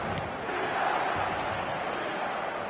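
Dense, steady roar of a stadium crowd at a night football match, a broad wash of many voices with no distinct chants or peaks, heard from a distance at moderate level.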